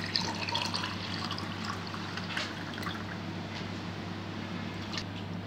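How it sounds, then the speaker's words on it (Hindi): Nimbu shikanji lemonade is poured into a glass, a soft, steady liquid trickle with light splashy flicks running throughout at low volume against a faint background hum. "अब हम शिकंजी को ग्लास में निकाल लेते हैं।"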